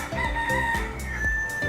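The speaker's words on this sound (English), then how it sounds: "the cock crows at sunrise" A rooster crows loudly and close by in one drawn-out, wavering call, accompanied by a few sharp clucks and flutters from nearby fowl.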